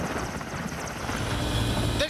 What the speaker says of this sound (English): This Soviet-era helicopter is about 30 years old.